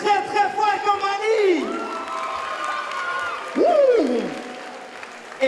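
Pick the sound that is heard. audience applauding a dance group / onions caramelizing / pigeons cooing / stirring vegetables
audience applauding a dance group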